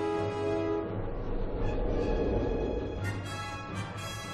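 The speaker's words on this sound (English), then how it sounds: "Fire up the iron horse, boys." A steam locomotive starting up gives a heavy mechanical rumble that builds with hissing and a sustained tonal whine, loud and nearby without voices.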